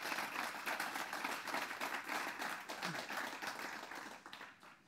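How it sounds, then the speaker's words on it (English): An audience at a talk on urban mobility gives a speaker a round of applause, a continuous, fairly distant wash of many hands clapping that holds steady and begins to fade near the end. "Please, a big applause to John."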